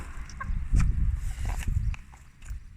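Backyard chickens eating leftover iftar food such as bulgur pilaf, salad and flatbread: soft clucks, pecking and scratching close by, with a few scuffing footsteps and no talk.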